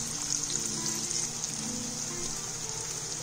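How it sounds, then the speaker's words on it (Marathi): Chopped onion and a green chili fry in hot tempering oil for a Kokan-style raw jackfruit dish, giving a soft, steady sizzle with faint stirring and no talk. "कांदा असा छानसा भाजून घेऊया"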